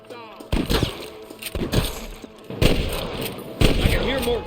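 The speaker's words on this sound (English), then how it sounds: "I can hear more gunshots." Gunshots in the video game Red Dead Redemption: four loud, sharp reports spaced roughly a second apart, each trailing off in a reverberant tail, mixed with voice-like game chatter.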